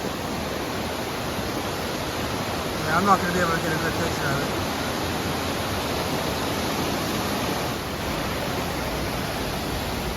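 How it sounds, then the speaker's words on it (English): A distant waterfall on a hiking trail produces a steady, even rush of water noise that runs through the whole stretch while a hiker speaks briefly over it. "There's a really, really nice waterfall way up there."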